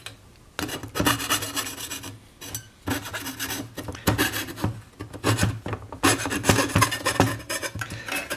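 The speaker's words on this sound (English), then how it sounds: "Now I've sawn into this little corner, and I want to bring this saw around." A fine piercing saw cuts into a metal spatula with quick, rasping strokes in short repeated bursts separated by brief pauses, close and fairly quiet, with no voices.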